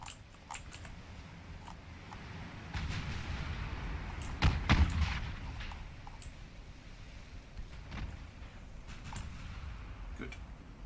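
Secondary guns of a warship firing in Ultimate Admiral Dreadnoughts, a naval battle off Coronel, heard as scattered sharp reports with one heavier burst midway, moderately loud, among quieter clicks and ambient battle noise.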